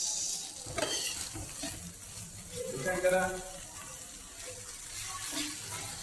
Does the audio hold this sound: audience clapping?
no